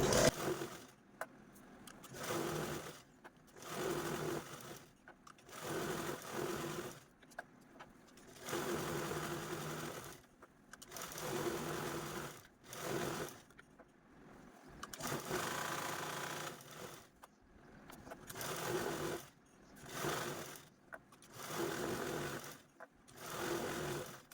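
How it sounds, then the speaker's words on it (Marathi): Domestic sewing machine stitching quilting lines across a fabric bottle cover, set to stitch length five, running in repeated bursts of a few seconds separated by short pauses, close and steady with no talking. "क्विल्टिंग करण्यासाठी मी इथे पाच नंबरची स्टीप मारत असते"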